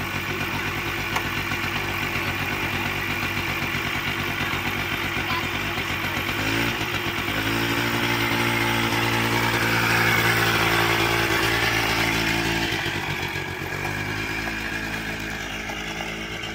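A Suzuki LT80 ATV engine runs steadily after a top end rebuild, a buzzy small single-cylinder drone that dips and picks up again as the throttle changes, loud and close throughout with no talking.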